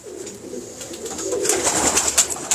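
Pigeons coo softly nearby, a few low rolling calls building toward the end over faint background noise.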